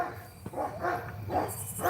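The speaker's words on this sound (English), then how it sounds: "They're gonna keep barking until my neighbor goes down." Several dogs bark repeatedly at a neighbor, a series of moderately loud barks spaced through the short stretch, with no talking.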